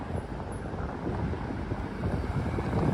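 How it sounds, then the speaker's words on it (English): Strong wind buffets the microphone on East 4th Street in New York City, a steady, loud low rumble that swells slightly over the few seconds, with no talking. "It is quite windy out now."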